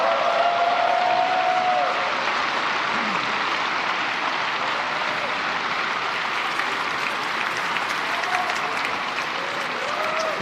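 Sustained audience applause at a Philippine presidential address, dense and steady for the full length, with a faint voice briefly audible beneath the clapping.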